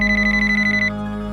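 A telephone rings loudly with a fast trilling electronic pulse over a steady hum, then the ring stops abruptly partway through and only the hum remains.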